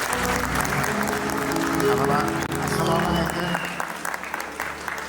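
Audience applause fills the hall at an Uzbek gathering, a dense wash of clapping that someone speaks over briefly before it begins to thin out.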